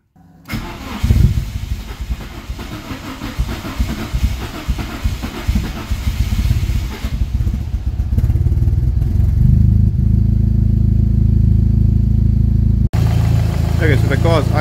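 A turbocharged Honda Civic being repaired after a head gasket failure cranks, catches and starts, then settles into a loud, steady idle heard up close for several seconds.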